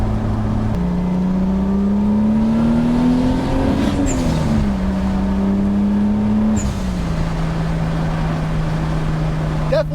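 A boosted 7M Supra engine pulls hard through a gear, the exhaust note rising steadily, dipping at a shift, then climbing again before easing off, loud and close from inside the car.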